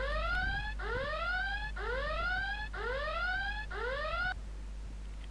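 Five loud rising electronic whoops repeat back to back from a laptop's pattern-lock alarm triggered by three wrong attempts, then stop abruptly, leaving a faint background hum.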